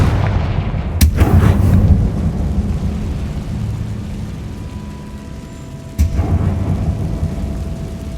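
A Confringo fire spell explodes in the Hogwarts Legacy video game, with two loud booming blasts about five seconds apart, each trailing into a rumbling, crackling decay over steady background ambience.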